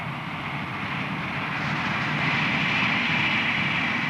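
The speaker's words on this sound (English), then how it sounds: "the sight and sound of a steam locomotive working a regular train up a heavy grade" A steam locomotive drones steadily hauling a train up a heavy grade, a broad low rumble that swells slightly louder in the second half, with no talking.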